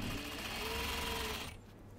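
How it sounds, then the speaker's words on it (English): A sewing machine stitches pinned coat pieces with facing, lining and interlining, a steady close whirring run that stops abruptly near the end. "I can stitch the details without any problems."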